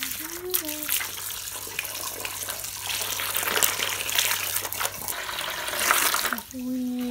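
Water gushes steadily into buckets in a barn, a loud continuous rush with a person speaking briefly at the start and end.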